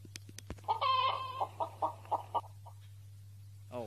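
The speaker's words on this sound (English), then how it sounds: "So here's the chicken." A chicken in the video game Growtopia gives a short series of clucks, one drawn-out call followed by several quick evenly spaced clucks, over a low steady hum, then a brief chirp at the end.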